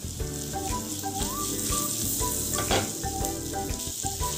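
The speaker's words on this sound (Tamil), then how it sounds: "பட்டர் நல்லா மெல்ட் ஆனதும் அதில் பச்சை மிளகாவும் இஞ்சியும் சேர்த்துக்கோங்க" Green chili and ginger sizzle and fry steadily in melted butter in a pan, a close, continuous crackle with a few louder pops and no voices.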